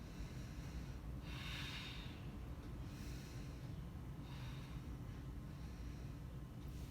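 Slow deep breaths during a hip-opening yoga class, soft airy inhales and exhales repeating about every second or two over a steady low background hum, faint and unaccompanied by talk.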